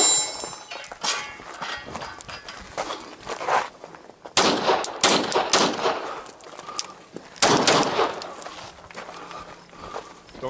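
Rifle shots crack out in a few sharp, loud bursts with clatter and handling noise in between, set in an outdoor shooting competition.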